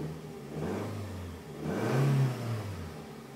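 A 2006 Nissan X-Trail engine starting up and revving, two rising-and-falling revs from a mid-pitched engine heard up close, with a steady idle between them.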